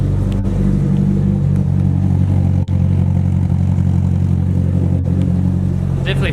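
A Nissan S14's engine runs close and loud with a fresh fuel pump, holding a steady mechanical drone with one brief dip midway and a slight rise near the end.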